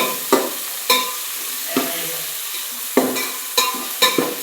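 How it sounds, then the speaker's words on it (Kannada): Food fries in a pan with a low steady sizzle, broken by several sharp scraping stirs and clacks of a utensil spaced a second or so apart. "2 ನಿಮಿಷ ಫ್ರೈ ಮಾಡೋಣ ಇದನ್ನು ಈ ಥರ"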